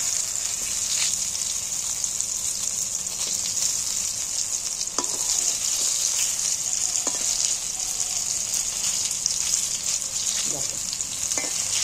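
Eggplant slices fry steadily in hot oil, a loud constant sizzle with occasional clinks and scraping from stirring.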